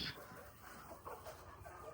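Hens in a small farm coop cluck faintly in short, scattered calls, with a brief higher squawk at the start and soft background rustle.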